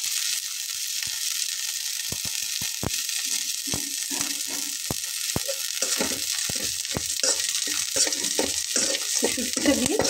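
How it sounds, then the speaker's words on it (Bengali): Dried fish (shutki) fries in a pan for a pointed gourd (potol) bhorta, hissing steadily. Repeated sharp taps and scrapes from stirring come at an irregular pace and grow busier toward the end, with no voices. "শুটকিটা দিয়ে খুব ভালোভাবে একটু ভেজে নিতে হবে, যাতে করে কোনো রকম শুটকির গন্ধ না থাকে।"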